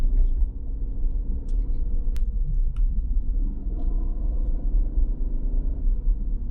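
A 2020 Aston Martin Vantage engine in track mode holding second gear, a deep steady rumble heard from inside the cabin with faint incidental clicks.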